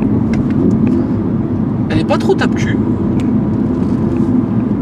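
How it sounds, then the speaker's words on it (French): An Audi R8 V10 engine rumbles loudly from inside the cabin as it accelerates, with brief quick gear shifts; someone talks over the engine noise. "Le V10 a du répondant, le passage de vitesse se fait super vite."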